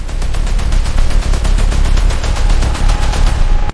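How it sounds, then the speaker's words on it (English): Rapid gunfire from a film shootout, a dense, loud, continuous barrage of overlapping shots in a fast irregular rhythm, close and heavy throughout with no talking, cutting off abruptly at the end. "The shootout is lit entirely by muzzle flashes, creating a disorienting stroboscopic nightmare of violence."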